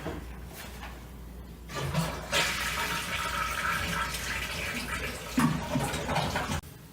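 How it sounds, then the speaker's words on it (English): A household toilet with a flush valve is flushed, giving a loud, close rush of swirling water that gurgles and drains for several seconds with no voices. "And flush your toilet."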